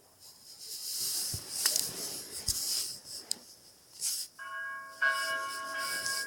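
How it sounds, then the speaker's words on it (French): Church bell number five rings inside the Saint-Pierre-aux-Liens church during an ordinary-time Mass, its steady tonal strikes entering late and sustaining clearly over faint room noise after a few knocks and rustles. "on entend la cloche numéro 5"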